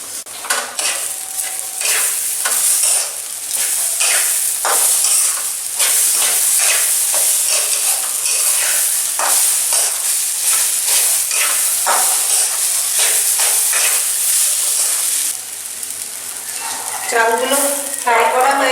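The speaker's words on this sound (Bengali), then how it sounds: "চালগুলো ফ্রাই করা হয়ে গেছে।" Rice grains sizzle and fry steadily in a hot pan with salt and sugar added for fruit pulao, the loud continuous hiss broken by repeated scraping stirs of a spatula, close up and without talk.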